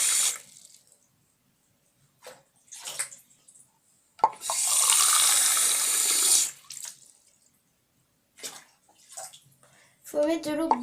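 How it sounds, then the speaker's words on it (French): Tap water gushes into a tub for washing horse brushes, running for about two seconds between bouts of speech, with splashes and drips around it. "Faut mettre de l'eau brûlante apparemment. Enfin, faut mettre de l'eau chaude quoi."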